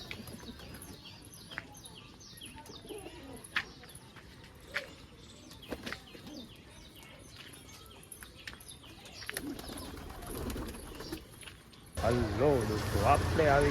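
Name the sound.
pigeons after feeding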